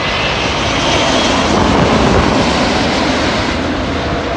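An Emirates airliner comes in to land directly overhead, its jet engines making a loud, continuous, rushing roar that fills the whole stretch with no break and no talking.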